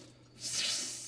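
An RV kitchen sink faucet turns on after a quiet moment, water rushing out with a loud, steady hiss and spray close by.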